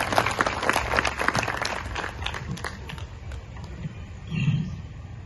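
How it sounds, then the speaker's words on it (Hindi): Audience clapping at an Art of Living talk, a dense, fairly loud spatter of hands for about three seconds that thins and fades, with faint room murmur after. "तो एक बार फिर से जोरदार इनके लिए तालियां कर दो।"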